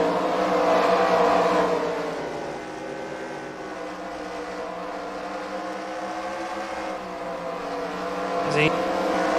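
Race cars on the Eldora Speedway dirt oval roar around in a tight pack, engines droning loud and sustained with rising and falling pitch as they pass, while an announcer talks over them.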